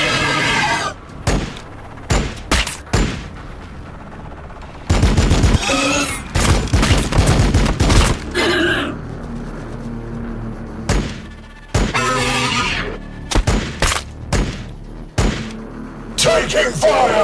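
Repeated bursts of gunfire and thudding impacts from a Warhammer 40,000: Battlesector battle, loud and broken into clusters, with a game voice calling out between volleys.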